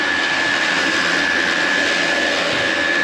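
Line boring machine cutting out weld in the loader pivot bore of a damaged Deere 655K trackloader, a loud steady whirring roar with a high whine, unbroken and close.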